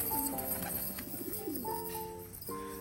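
Pigeons coo in soft rolling calls while being fed maize and biscuit, the cooing steady and near with several birds overlapping.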